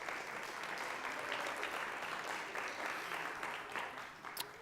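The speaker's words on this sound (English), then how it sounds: "give yourself a round of applause for being part of such a great event." An audience at a charity cabaret applauds in a steady, even wash of clapping that lasts the whole time, fairly distant and with no voices over it.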